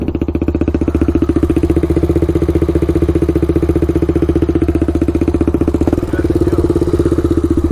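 A Honda ATC 350x three-wheeler runs at a steady idle close by, its loud engine thumping out an even rapid beat with a slight blip near the end, no talk over it.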